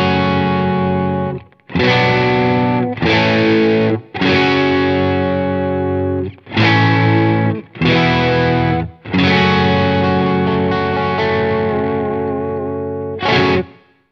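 Schecter Nick Johnston electric guitar in the fourth pickup position driven through a tube screamer, playing several sustained overdriven chords and phrases separated by short gaps, loud and close with a rich harmonic tail.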